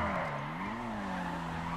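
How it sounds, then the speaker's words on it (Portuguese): A car drifts in the video game GTA V, its tires giving a continuous, wavering skid squeal over a steady engine drone for a short moment. "se liga no drift."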